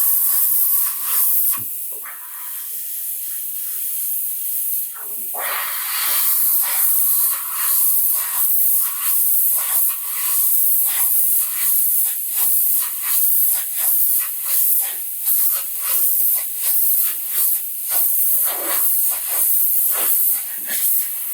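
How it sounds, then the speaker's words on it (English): Airbrush spraying a clear brownish paint onto a 1/4-scale custom sculpted Thor figure, a steady close hiss broken into many short pulsed bursts as the trigger is worked, with no voices. "I'm actually gonna go in here and do a little airbrushing real tight"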